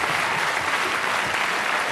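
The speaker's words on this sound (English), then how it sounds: "I'll give him a nice round of applause" Warm studio audience applause on the British game show Strike It Lucky, a loud, even, continuous roar of clapping from a large crowd, sustained throughout without any voices.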